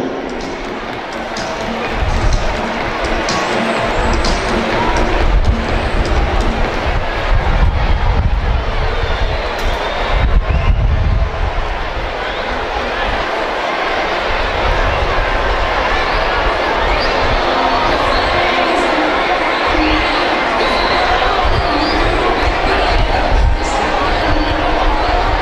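Crowd at an end-of-season youth football schools league ceremony in Spain cheering and clapping, a dense, continuous wash of applause and voices swelling loudest early on and staying steady, with an announcer's voice briefly over it.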